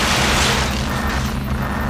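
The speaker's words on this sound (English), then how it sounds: "There was a large underground explosion in the colony block." A large underground explosion in the Zone of the Enders video game, heard as a loud, sustained deep rumbling boom with broadband roar that fills the whole moment and slowly eases off.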